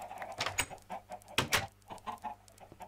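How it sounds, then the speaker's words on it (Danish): A Minecraft chicken clucking in a series of short, uneven bursts, fairly close and clear, with faint game ambience between the clucks. "Det var godt, der var en kylling, vi fik der."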